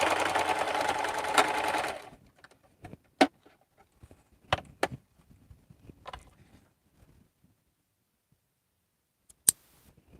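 A sewing machine runs steadily for about two seconds while finishing cross body bags, then stops, followed by scattered light clicks and snips close by.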